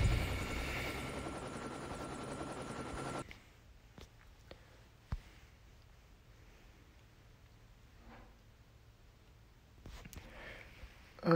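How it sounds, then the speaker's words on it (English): Helicopter in the Call of Duty video game, a loud steady rotor drone for the first three seconds, then cutting out to quiet game ambience with scattered clicks and faint thumps. "I wanted to see if I could take out a helicopter."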